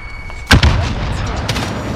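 A grenade explodes in Call of Duty: Modern Warfare multiplayer with a single loud, sharp blast and a rumbling tail. Brief, gunfire-like cracks follow over steady battle ambience.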